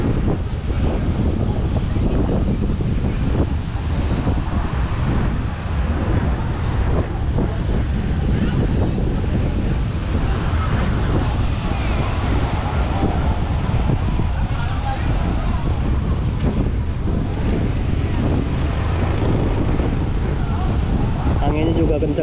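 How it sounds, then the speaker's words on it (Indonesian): Strong wind roars continuously at Canggu, Bali, buffeting the microphone with a loud, rumbling rush throughout. "Anginnya juga kencang anginnya."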